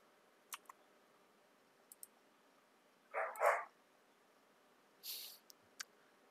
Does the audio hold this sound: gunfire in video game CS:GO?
no